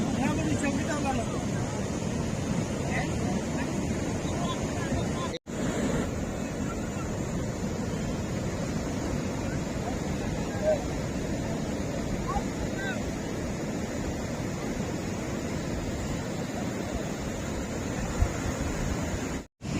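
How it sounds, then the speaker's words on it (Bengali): Bay of Bengal surf at Cox's Bazar late at night, a continuous, full, wind-blown roar of breaking waves that stays steady and loud throughout, with only brief dropouts. "এই গভীর রাত্রে বঙ্গোপসাগরের যে ঢেউ এই ঢেউয়ের যে গর্জন এই গর্জন আপনাদের দেখাচ্ছি"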